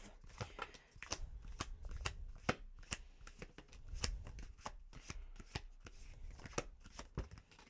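Tarot cards being shuffled by hand, a run of quick crisp riffles and slaps in an irregular rhythm, close and fairly quiet, with no talking.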